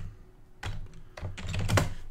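Bursts of typing on a computer keyboard, entering whispered messages into a chat during an online Dungeons and Dragons session; close, crisp key clicks in quick clusters, starting after a brief quiet lead-in.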